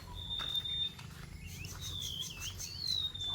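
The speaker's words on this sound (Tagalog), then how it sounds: "Ang daming ibon kumakanta." Several birds chirp and whistle in short, high calls over a low rumbling background, some notes close and clear, others fainter.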